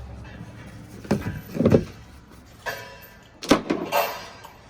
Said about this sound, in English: Hey, the door opens now.